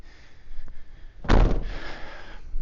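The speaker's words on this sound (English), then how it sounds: "the door closes comfortably without issue" A Toyota FJ Cruiser door shuts with a single solid thud midway, preceded by a faint click and followed by a short rattle and quiet settling, recorded close up.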